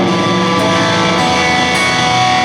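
Electric guitar chord played one string at a time, the notes ringing together into a dense sustained wash that stays loud and steady throughout, with no voice.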